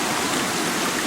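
Steady rushing flow of a mountain stream on a trail in the Roaring Plains backcountry of West Virginia, a continuous broadband water wash close by with no voices.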